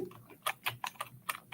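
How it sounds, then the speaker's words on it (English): A computer keyboard gives a quick run of about six clicky keystrokes, close and fairly soft, with no voices. "Can you hear me clicking my keyboard excessively?"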